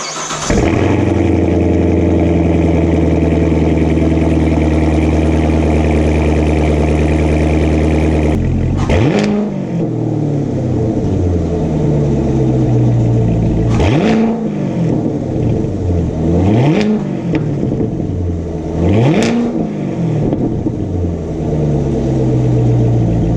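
Corvette Grand Sport with a Corsa Xtreme exhaust cold-starts with a loud bark, settles into a steady high idle, then gives three sharp revs that rise and fall, loud and close.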